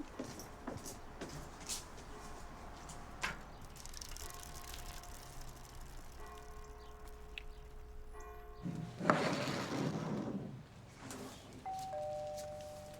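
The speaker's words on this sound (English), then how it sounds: "doorbell!" A doorbell chime rings inside a house in a film scene, with sustained ringing tones that repeat over a quiet room, followed by a louder rustling burst near the end.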